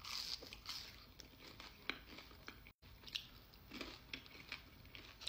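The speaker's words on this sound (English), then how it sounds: "The fries are super crunchy too." Quiet, close crunching bites and chewing of crunchy fries, with crisp snaps repeating irregularly over a few seconds, no talking.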